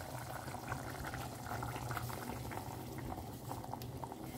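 Chicken curry simmering in a pan after masala paste is added, a steady bubbling and sizzling that continues evenly throughout.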